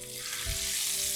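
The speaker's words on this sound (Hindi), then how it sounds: "तड़का आ गया" Tadka tempering for Memoni chaat sizzles loudly and steadily in hot oil, a close, continuous crackling hiss with a brief low thump partway through and no voices.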